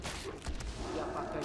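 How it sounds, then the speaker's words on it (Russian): A hunter's Volley ability in World of Warcraft fires a dense burst of shots, a rapid crackling fusillade blended into continuous game noise and combat effects, moderately loud with no clear pauses. "Лови залп."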